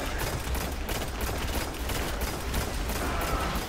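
Rapid, dense gunfire from Destiny rages without pause in a Court of Oryx fight, loud and continuous with overlapping bursts.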